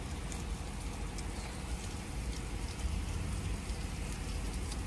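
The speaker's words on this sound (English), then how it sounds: "It's raining so damn hard." Heavy rain pours down steadily at a pharmacy, a dense, continuous hiss with scattered drops spattering close by, with no break and no talking.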